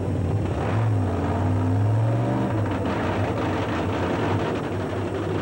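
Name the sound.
3,000 horsepower aluminum nitro funny car racing engine starting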